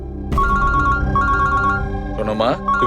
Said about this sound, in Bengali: আমি একটু ফোনটা ধরি।